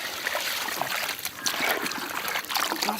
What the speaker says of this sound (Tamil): பச்சை தண்ணி அப்படி ஒரே இடத்துல ஊத்துறா